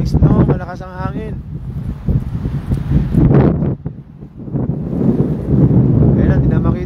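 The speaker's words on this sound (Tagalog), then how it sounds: "malakas ang hangin." Strong wind roars and buffets the microphone during a snowstorm in Alberta, a loud, gusty rush under a person talking excitedly nearby.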